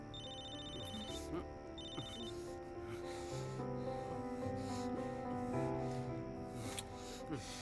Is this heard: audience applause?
no